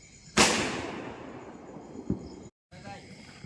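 Diwali firecrackers burst outdoors: one loud, sharp bang with a long crackling decay, then a smaller pop a couple of seconds later, both over faint background noise.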